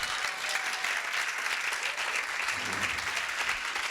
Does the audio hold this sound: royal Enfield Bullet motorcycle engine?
no